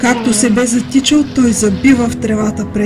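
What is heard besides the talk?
No distinct noise like a dog, phone or traffic.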